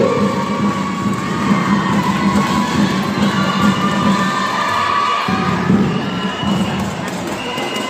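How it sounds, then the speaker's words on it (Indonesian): An audience at an Islamic boarding school recitation audition applauds and cheers a participant, a loud, continuous wash of clapping and young voices shouting that fills the room from start to finish. "Beri tepuk tangan untuk saudara Hafid Wadudu."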